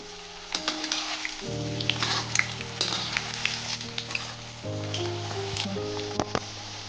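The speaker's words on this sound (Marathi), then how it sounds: "मी मंद गॅसवरच हे तळून घेतेय" Veg Manchurian balls deep-fry in hot oil over a low flame, a steady bubbling sizzle with a low droning hum and scattered crackles and pops throughout.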